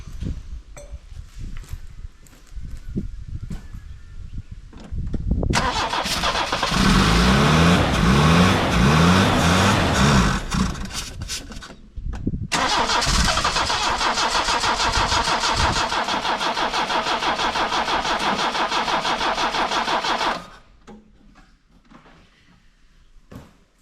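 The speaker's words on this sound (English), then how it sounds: "Put fuel down the carby, it'll run." 1976 Toyota Corona, parked for 13 years, cranking and starting on fuel poured down the carburetor, roaring loudly, cutting out, catching again to run steadily, then dying back to quiet ambience.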